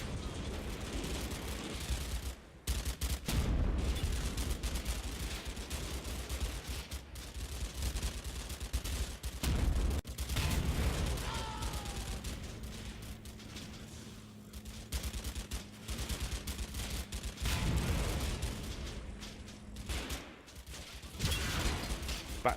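Gunfire in a World War II tactics game set in Italy, an M3 gun firing canister among scattered battle sounds: repeated sharp shots and bursts, some rapid volleys, with distant rumbling booms throughout, no voices.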